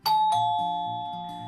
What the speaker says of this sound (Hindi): डोरबेल पर अनु के पापा ने दरवाजा खोला था।